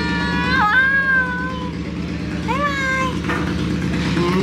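A cat at a hot spring meows twice, the calls rising and falling over a low steady hum of background noise.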